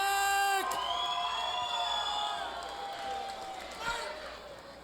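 A crowd at an MMA event cheers and whoops in a large hall, loud at first and then fading into sustained cheering. An announcer's amplified voice rings out over the crowd, with a brief swell of noise near the end.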